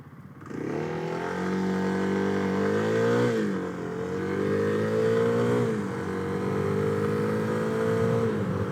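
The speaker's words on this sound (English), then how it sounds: "I'm surprised by this bike. For how slow it is to take off" A motorcycle engine drones loudly and close throughout while riding in traffic, its pitch rising and falling with repeated throttle changes and gear shifts.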